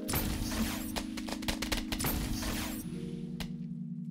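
Thundergun blasts from the Black Ops 3 Custom Zombies video game mode: a rapid string of heavy booming hits with a steady game hum beneath them, and a final sharp blast after the hum shifts.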